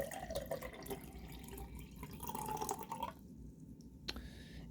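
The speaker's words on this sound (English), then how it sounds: "So I'm going to fill it up with water here" Water pours and trickles into a portable electric travel kettle, a close, soft, continuous splashing that fades out, followed by a few faint drips and small clicks.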